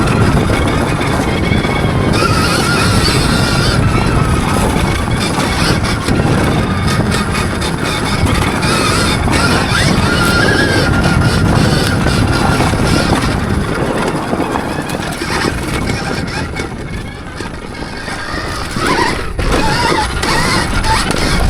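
A Stark Varg Alpha electric motocross bike, set to 45 horsepower with 20% regen, ridden on a dry track, giving a loud continuous electric whine and drivetrain roar with wind noise that eases briefly before rising again.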